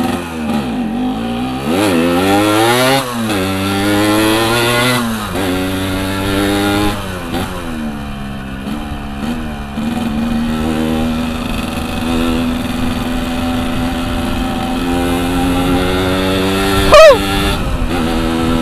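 Yamaha RX King two-stroke motorcycle with its exhaust baffle fallen off, revving loud and close in repeated rising and falling bursts over a steady rasping idle, with a sharp blip near the end.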